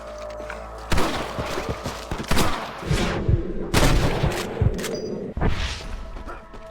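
Sniper gunfire in the video game Red Dead Redemption: several sharp, loud rifle cracks and impacts burst out at irregular intervals over a steady background din, with a brief voice near the start.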